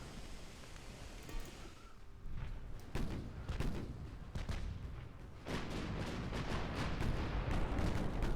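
Naval gunfire from warships in Ultimate Admiral: Dreadnoughts, a rumbling series of heavy booms and blasts that swell louder and denser toward the end, with no talking.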